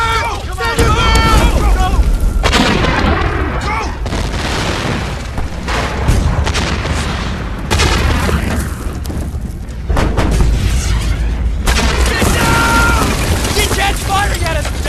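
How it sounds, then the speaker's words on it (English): Artillery gunfire from a German battle unit in a war movie battle scene: heavy, loud booms and rumbling blasts run almost continuously, mixed with shouting voices. "Firing at us from a German battle unit!"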